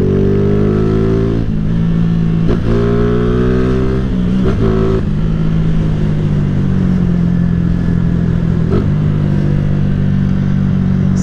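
A 2008 Honda CG 150 Titan motorcycle with 45,000 km revs loudly up close, its engine pitch climbing and dropping through several gear shifts before settling into a steady, even drone.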